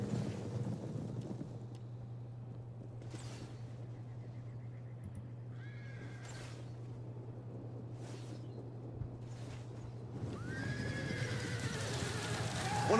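Cavalry horses in the video game Total War: Rome 2 whinny several times over a steady windy battlefield background with a low hum, the neighs spaced out and moderately loud.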